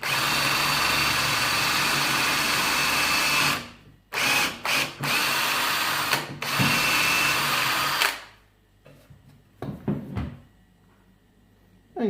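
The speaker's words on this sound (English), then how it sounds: "And drill again." Parkside countersink drill bit boring into a workpiece with a power drill, a loud steady whirring run of several seconds followed by several short bursts as the trigger is pulsed, then quiet.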